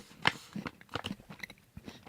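Close, crisp chewing of a crunchy milk tea chocolate cookie, a sharp first bite followed by several irregular crunches and soft mouth sounds, quiet and alone.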